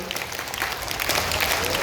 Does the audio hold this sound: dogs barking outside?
no